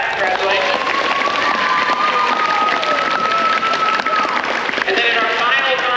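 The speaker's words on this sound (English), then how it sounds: "Give a good round of applause for that" Cheering and applause rise from a school band audience at an awards announcement, a dense, loud wash of clapping and shouts with a sustained whistle or cry running through it.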